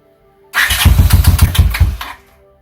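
A Honda CX500 bobber motorcycle engine with an old manual choke turns over and catches, firing in a rapid run of loud, close pulses for about a second and a half before cutting out abruptly.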